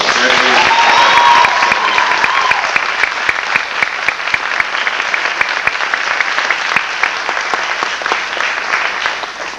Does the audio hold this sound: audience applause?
yes